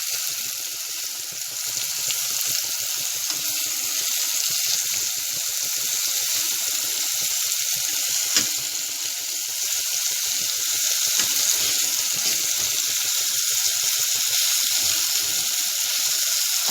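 Meat frying in a pan while browning, a loud continuous sizzle and crackle held steady throughout, close up with no talk.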